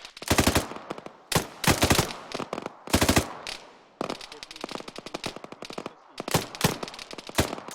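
Rapid automatic gunfire in the military shooter Arma 3 crackles in loud, repeated bursts of sharp shots separated by short pauses, continuing steadily throughout with no talking.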